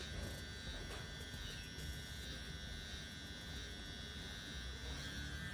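Electric hair trimmer buzzing steadily throughout as it cuts hair in a barber setting, a continuous close hum with slight variations as it moves, no talking.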